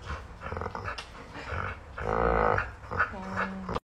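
A dog growls low and steady at close range, swelling to its loudest in the middle, while a person lies in its bed.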